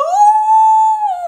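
A person howls in imitation of howler monkeys, a single sustained, tonal and near call that rises, holds steady and falls off, heard alone without speech.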